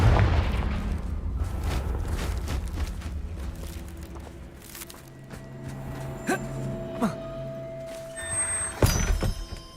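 A Confringo fire spell blast in Hogwarts Legacy, a heavy thudding boom up front fading into a low rumble, followed by scattered softer impacts and a sharp crack near the end.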